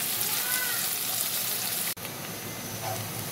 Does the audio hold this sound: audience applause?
no